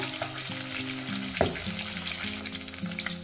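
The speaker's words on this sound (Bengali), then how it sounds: "মাছগুলো আমার ভাজা হয়ে গেছে" Close, steady sizzling of catla fish frying in oil, with a brief clatter of a utensil partway through.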